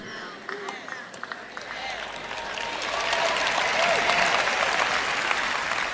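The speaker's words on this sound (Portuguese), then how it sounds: "Foi um aplauso bem fraquinho, viu?" Thin, scattered applause from a church congregation during a sermon, starting with a few sparse claps and swelling into a steadier but still modest patter, with a speaker's voice heard briefly over it.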